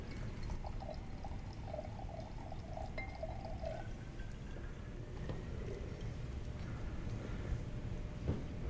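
Red liquid is poured into a container during a children's chemistry magic show, a soft faint trickle over a low hum of room noise, with no talking.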